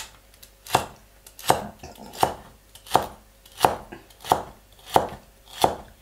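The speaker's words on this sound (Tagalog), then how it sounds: "Iwa tayo ng celery" A knife chops celery on a cutting board in eight evenly spaced, sharp thuds about one per second, close and clear over a quiet background.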